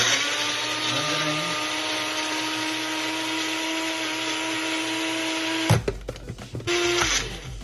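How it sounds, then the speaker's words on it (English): A household blender runs steadily, whirring as it blends a homemade hand sanitizer mixture, then switches off, leaving a few clattering knocks and a brief restart near the end. "a blender, just blend it whatever you use at home"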